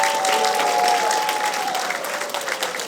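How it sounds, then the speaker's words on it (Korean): An audience welcomes high school students at a memorial academic concert with a short, full burst of clapping that tapers slightly as it continues. "박수로 환영합니다."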